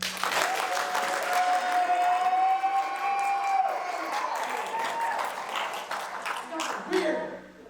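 An audience at a magic show applauds, steady clapping that swells and fades over several seconds, with scattered cheers and voices mixed in.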